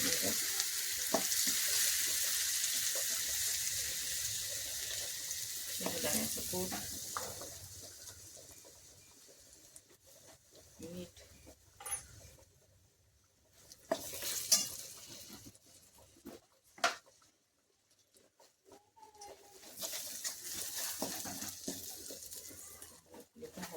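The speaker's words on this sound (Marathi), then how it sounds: "तेल चांगलं तापलेलं आहे आपलं मिरची टाकलेलं आहे" Green chilies dropped into hot oil for a village-style Marathi vegetable dish sizzle and crackle steadily close by, loudest at first and then fading to quieter spells, with occasional stirring clatter and short bursts of frying.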